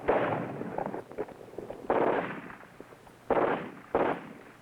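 A sniper's gunshot in a combat training film sounds out as several sharp bursts. Four loud reports are spaced a second or more apart, and they are fairly close and crisp.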